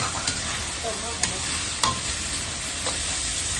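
Carrots stir-frying in a hot pan for fried yellow noodles, a loud continuous sizzle with a few sharp scrapes of a spatula, close up and with no voices.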